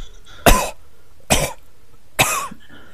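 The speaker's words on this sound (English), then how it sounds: "the guy in the audience would cough, for example, two times if it was the second answer, or four times if it was the fourth answer." Three sharp, loud coughs from a man in a game show audience, spaced about a second apart, used as a signal for the answer; no talking in between.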